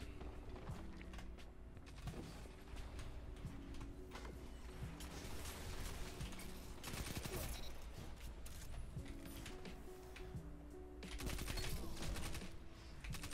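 Shotgun shots fired in the air in the Destiny video game, a busy run of game gunfire and mechanical clatter that stays fairly steady and swells near the end.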